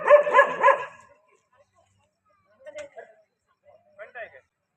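A dog barks three times in quick succession during a cobra rescue from a tree near Pandharpur Road, followed by faint scattered sounds and brief human voices further into the quiet.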